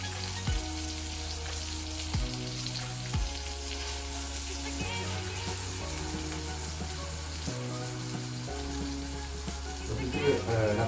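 Beef burger steak sizzling and frying in a pan, a steady loud crackle running throughout with occasional stirring sounds and a repeating low tone in the background.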